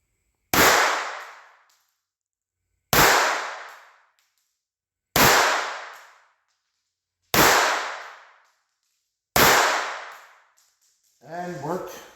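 Five loud, sharp gunshots from a Walther .22 pistol firing CCI Copper lead-free ammo crack out at even intervals, each trailing off in a short ring, followed by brief speech at the end.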